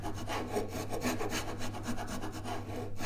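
A hand saw cuts the nut slot across a classical guitar neck with a veneer, giving quick, close, rhythmic rasping strokes at low volume with no speech.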